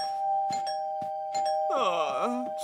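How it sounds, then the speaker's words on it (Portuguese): A cartoon doorbell rings at five in the morning with a steady sustained electronic tone, and short sound effects and a sliding voice-like sweep sit over it, loud and close in the soundtrack. "Quem tá tocando a campainha a essa hora?"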